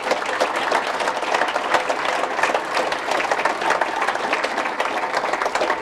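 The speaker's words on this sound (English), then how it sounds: "We can give them a round of applause" Audience at a city address giving the speakers a round of applause, a thick continuous clatter of many hands clapping close and loud, sustained evenly from start to finish with no talk over it.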